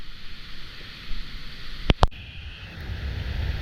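Waterfall in the Outeniqua mountains swollen after 95mm of heavy rain, a steady broadband roar of rushing water heard from nearby, with two sharp clicks near the middle and wind buffeting the microphone.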